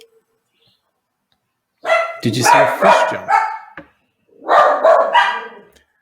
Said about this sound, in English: Do you hear the dogs barking?